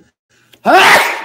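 After a brief murmur, a single loud, sudden sneeze bursts out close up and fades quickly.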